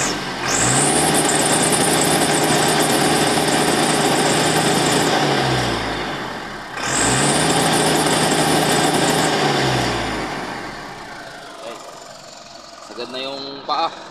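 A Mitsubishi Canter truck with a 4M50 engine and a low-power fault, revved twice up to about 2000 RPM and held steady, a loud close drone that sags back down, with someone talking over it near the end.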